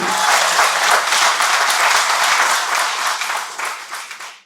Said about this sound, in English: Big round of applause for David and Susan Shaw.